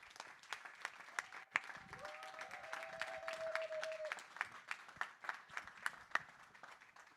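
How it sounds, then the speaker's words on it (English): An audience at a conference on ending tuberculosis in Africa breaks into sustained applause, many hands clapping steadily throughout, with a brief whistle-like tone sliding over the crowd partway through. "Let's give her a round of applause"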